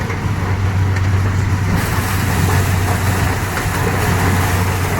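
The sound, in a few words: vehicle engine running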